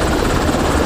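A rescue helicopter arrives near cerro La Cruz, its rotor and engine a loud, close, continuous roar filling the whole short stretch.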